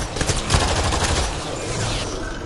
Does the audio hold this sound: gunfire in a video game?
yes